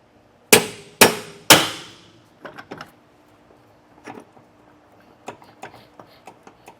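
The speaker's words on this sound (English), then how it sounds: "just take a hammer and tap it out" Three loud, ringing hammer strikes tapping out splined metal parts while installing MORryde rubber equalizers on a 2018 Grand Design Momentum trailer, followed by lighter scattered taps and clinks.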